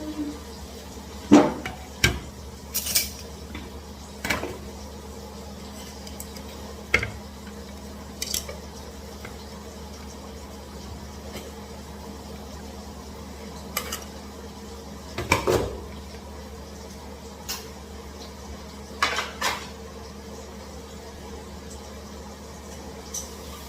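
A spoon scoops rice onto a plate in a home kitchen, making sparse, quiet clinks and scrapes of utensil on dish, scattered with long pauses between them.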